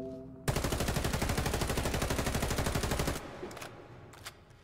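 AY-551 rifle in the video game Warface firing a sustained automatic burst of rapid, evenly spaced loud shots for about three seconds, then stopping abruptly with a short echoing tail and a few faint clicks.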